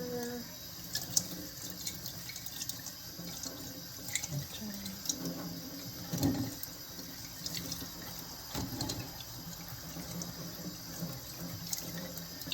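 Tap water runs steadily into a sink while food is rinsed, a faint continuous splashing with occasional drips and clinks, fairly quiet and unbroken throughout.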